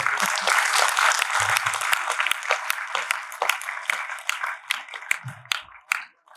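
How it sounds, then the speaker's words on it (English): Applause from the audience at a graduation convocation ceremony, a broad wash of clapping that starts full and gradually thins and fades toward the end, with a few scattered claps and low murmurs underneath. "Please continue with your applause."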